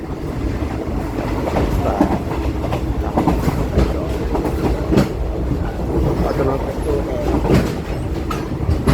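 A train in Thailand rumbles steadily along the rails with rhythmic clacking of wheels, loud and continuous from inside the carriage.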